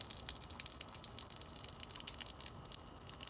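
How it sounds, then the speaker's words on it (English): Starchy water pours off cooked rice during straining, a steady gushing splash with fine spattering, continuous and fairly soft throughout. "All right, we're gonna drain that off."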